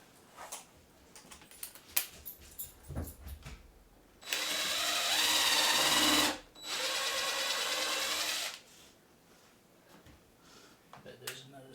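Electric drill boring holes during a home-built cockpit rebuild: two loud, sustained whirring bursts of about two seconds each, separated by a short pause, with clicks and handling noise before and after.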